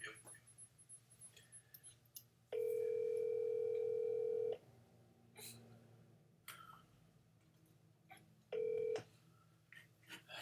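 A FaceTime video call ringing tone sounds twice, first as a long steady electronic tone and later as a shorter one, with quiet room noise and brief sounds between the rings.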